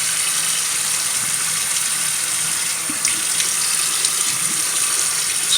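Cold water runs from a tap into a sink in a steady, loud, close gush that lasts the whole stretch without pause, with no voices over it.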